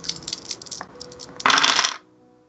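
Dice rolled during a Star Wars D6 tabletop roleplaying game, a close clattering rattle of several dice tumbling on a hard surface, ending in a brief louder burst before they settle.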